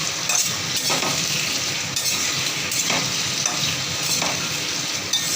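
Potato pieces and drumsticks (sajne data) fry together in a pan with a steady, loud sizzle, broken by several scraping stirs of a utensil and no talking.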